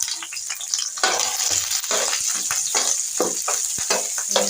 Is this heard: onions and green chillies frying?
yes